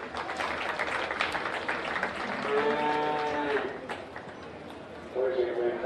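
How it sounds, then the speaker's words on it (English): Audience applause for young exhibitors at a county 4-H youth beef cattle show, a steady wash of clapping that carries through, with a cow lowing in the middle and a brief voice-like tone near the end. "give all these young people a big round of applause"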